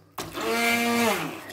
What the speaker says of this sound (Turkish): bu sıvı halini alana kadar parçalıyoruz